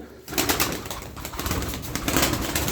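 Strong racing pigeons, tough birds able to stay aloft for an hour or more, fill the air with continuous cooing and fluttering, fairly close and steady throughout with no talk.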